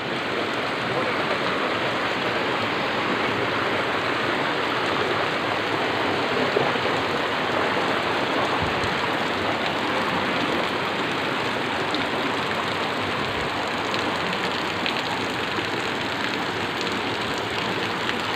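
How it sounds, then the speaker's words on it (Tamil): Water pours steadily from a Shiva statue at a forest temple, a loud, continuous hiss and splash that stays even throughout and is heard up close. "இது பாருங்கள், சிவன் தண்ணி ஊற்றிட்டு இருக்கிறாரு."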